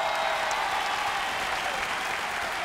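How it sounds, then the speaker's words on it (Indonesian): Studio audience applauding at an Indonesian dangdut TV show, a dense steady wash of clapping that holds evenly at full level throughout, with no voices over it. "Penonton mana tepuk tangannya yuk"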